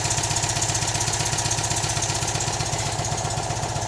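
A Citroën 2CV engine, fresh from a coil swap, idles steadily with an even, rapid low-pitched put-put pulse that holds continuous and loud throughout, with no voices.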